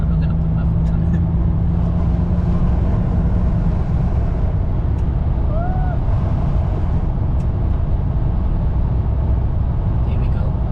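A Chevrolet Lumina SS engine drones steadily through a fourth-gear pull at partial throttle, heard from inside the car as a low, constant rumble mixed with road and wind noise, with no sharp changes in pitch.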